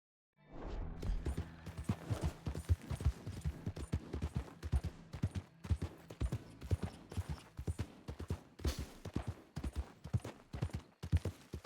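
Horse hooves clip-clopping in Red Dead Redemption 2, a quick, regular run of hard, close hoofbeats that carries on steadily from start to finish with no talk over it.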